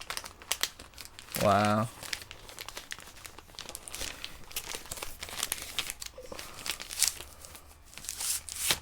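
Old comic books in plastic bags being handled close by, with bursts of crinkling and rustling plastic and brief tearing-like crackles, while someone speaks a short exclamation partway through.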